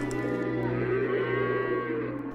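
Cattle low in a long, continuous moo, loud and close, with a deep resonant drone and no voices over it.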